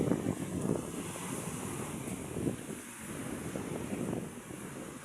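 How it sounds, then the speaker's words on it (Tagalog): A sea breeze and waves at a beach, heard as a soft, steady wash of surf with gusts of wind rumbling over the microphone, fairly faint and unbroken, with no voices. "Ah, sarap ng hangin."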